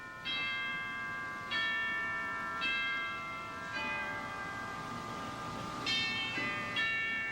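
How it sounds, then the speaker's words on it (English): Deep cathedral bells chime in a slow, steady sequence, each strike ringing out and overlapping the last in a resonant hum. "Cathedral chimes."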